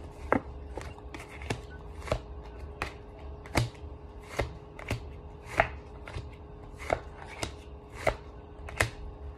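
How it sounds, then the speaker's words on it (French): Cards are drawn and laid down for a tarot-style reading, giving sharp, evenly spaced taps and flicks, about a dozen distinct hits close up with quiet gaps between. "Je tire les cartes, hein."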